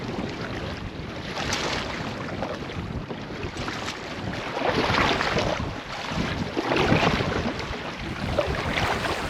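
Wind rushes and gusts across open water around an island while canoe camping, a loud continuous roar with swelling surges and splashy texture, no voices.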